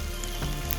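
A spoonful of onion hits hot oil in a pan for Mangalore-style cucumber sambar, giving a brief, close, even sizzle with no voices.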